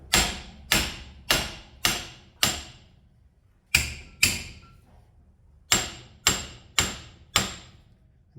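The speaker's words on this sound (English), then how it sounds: "Now what we can do with the same hammer is just tap the yoke down" A hammer strikes a Toyota Hilux drive shaft yoke in quick sharp taps: a run of five, a pair, then four more, each ringing briefly and loud in a quiet space.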